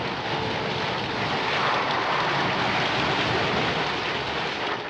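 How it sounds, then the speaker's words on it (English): Heavy storm over the Pacific Ocean, with steady dense rain and rumbling thunder woven together with the drone of a plane flying low, a continuous loud wash with no break. "This storm is the worst I've ever seen."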